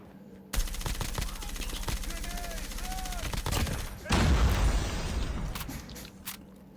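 An M4LMG light machine gun fires in Call of Duty Mobile in one long, rapid, sustained burst, followed by a heavy boom and crackling impact noise, with a few sharp shots near the end.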